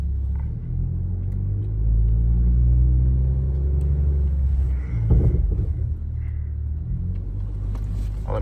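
A Toyota Supra fitted with a 5-inch downpipe idles while warming up, a deep, steady exhaust rumble close by with a slight swell in the middle and a few faint clicks and shuffles on top.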